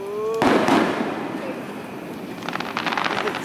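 Fourth of July fireworks burst with a sharp boom followed by a crackling shower, then a later flurry of rapid crackles, with a voice heard briefly at the start.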